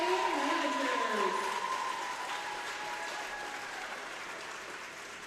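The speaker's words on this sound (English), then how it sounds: "Let's give one big round of applause for our seniors, players, and managers" Sustained applause from a high school gym crowd honors senior volleyball players and managers at senior night, steady and fairly loud throughout with crowd noise and voices mixed in, slowly easing off.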